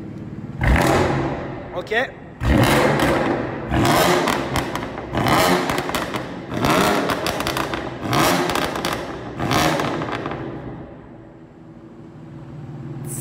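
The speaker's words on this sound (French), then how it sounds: "c'était pour vous montrer la petite parenthèse de son échappement Akrapovic" BMW M4 Competition with an Akrapovic exhaust revving hard, a series of loud, sharp bursts with crackles between, close by, fading at the end; a voice speaks briefly.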